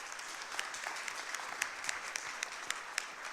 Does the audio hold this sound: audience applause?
yes